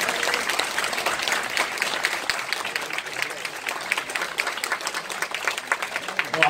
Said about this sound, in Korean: 또 통역에 계신 우리 웨스트신 이 모든 분들께 뜨거운 박수 부탁드리겠습니다.